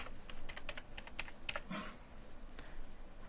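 A card number is typed on a computer keyboard in a quick, faint run of clicking keystrokes, close and alone with no talk.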